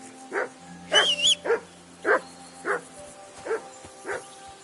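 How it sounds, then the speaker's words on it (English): A dog barks repeatedly in a roughly even rhythm, about eight sharp woofs, fairly close, with a faint background hum and no talk over it. "Quiet, you flea-bitten hound."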